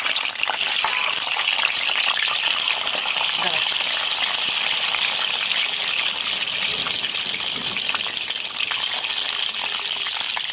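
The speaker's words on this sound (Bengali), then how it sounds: "ডিমগুলো লাল করে ভেজে নিচ্ছি।" Peeled boiled eggs frying in hot oil, a dense steady hiss of bubbling oil close up, running unbroken throughout.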